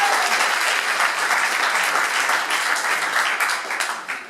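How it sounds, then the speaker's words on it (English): Audience at a startup weekend event in Riga breaking into sustained applause, dense clapping from a sizable crowd heard close, holding steady for a few seconds and fading slightly at the end. "they deserve an extra round of applause."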